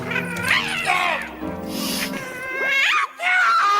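A cat meows and caterwauls in drawn-out, wailing calls that rise and fall over a continuous background.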